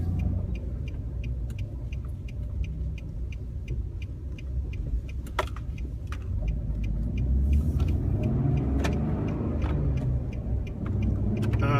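A Nissan Frontier Pro-4X truck with a 4.0-liter VQ40 V6 drives along, heard from inside as a steady low rumble with faint regular ticking over it.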